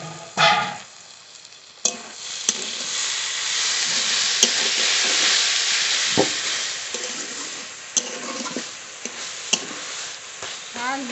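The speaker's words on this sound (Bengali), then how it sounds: "এবার এইভাবে একটু নেড়ে নেব, নেড়ে একটু জল শুকিয়ে তারপরে নামিয়ে দেবো।" Fenugreek leaves and eggplant frying in a pan, a steady sizzle with a few scraping stirs and clinks of a spatula against the pan, close and fairly loud throughout.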